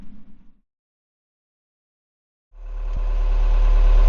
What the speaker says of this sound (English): I'm actually running our diesel propulsion engine to run our inverter to charge the power station